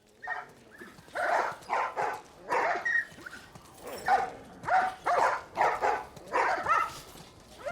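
Dogs in The Last of Us Part I video game bark over and over in a steady, fairly close volley of a dozen or so sharp woofs, some with whiny edges.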